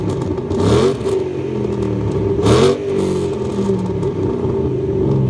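A 2005-2009 Mustang with a Pypes off-road H-pipe and Borla S-type Stingers, its exhaust growling at a deep steady idle with two brief rising revs, close and loud, with no talk.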